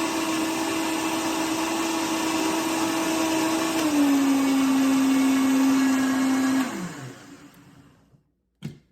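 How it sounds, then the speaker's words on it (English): A blender blending nut milk whirs loudly and steadily, its pitch dipping slightly partway through, then winds down and stops, followed by a brief thump. "Blend it for about 30 seconds."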